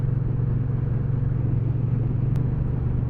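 A Triumph T120 motorcycle being ridden, its engine holding a steady low rumble up close, with continuous road and wind noise and no talking.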